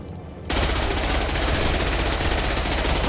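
Sustained automatic gunfire from a Mass Effect 2 firefight erupts abruptly after a brief quiet moment, continuing as a loud, dense, rapid stream of shots to the end without any talk.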